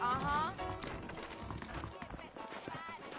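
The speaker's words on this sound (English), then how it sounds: "I got the horses saddled up and ready out front." Horses clip-clopping in Red Dead Redemption, hooves thudding in a steady run beneath a voice, with a brief whinny near the start.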